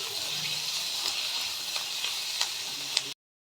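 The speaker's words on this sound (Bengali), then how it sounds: "এবার একটু নাড়াচাড়া করে নেব।" Tomato, capsicum and bell pepper stirred in a hot chicken soup pan, giving a steady bright sizzle with faint scraping clicks before it cuts off abruptly.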